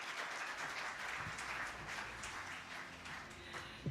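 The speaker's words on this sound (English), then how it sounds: "A big round of applause, please." Audience applause at a startup awards ceremony, a dense steady wash of clapping heard at a distance and fairly soft, with no clear speech.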